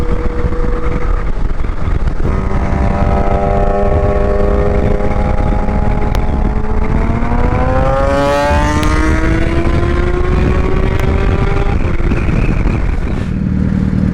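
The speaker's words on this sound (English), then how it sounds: "I hope you can hear the exhaust note." A Kawasaki H2 Carbon motorcycle in India sends out a loud, steady engine drone whose pitch climbs smoothly through the middle as it accelerates, then settles, with constant wind rush underneath.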